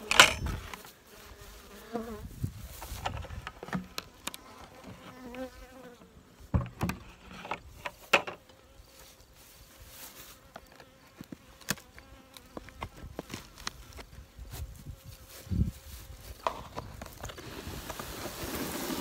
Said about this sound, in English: Flocks of bees, very well organized.